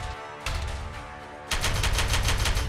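Space Marines firing in the Warhammer 40,000: Regicide video game: bursts of rapid gunfire, moderate at first, then a louder, denser volley from about 1.5 seconds, steady rattling shots with no talk.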